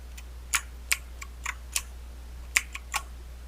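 Sharp key presses on a computer keyboard, entering shortcut combinations while modeling in 3DS Max 2017. About nine distinct clicks come in an irregular rhythm, close and fairly quiet, over a low steady hum, with no talking.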